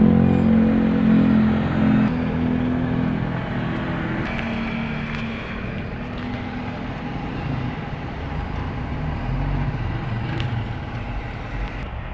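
An owner-type jeep with a Toyota 4K engine and four-speed box idles and runs, giving a steady low mechanical rumble that stays close and fairly loud for the whole stretch.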